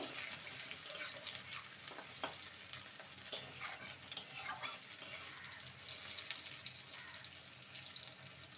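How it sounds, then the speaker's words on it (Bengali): A medium chopped onion frying in oil for a bean paturi dish, a faint continuous sizzle with scattered stirring scrapes, no talking. "পেঁয়াজটাকে হালকা লাল করে ভেজে নেব"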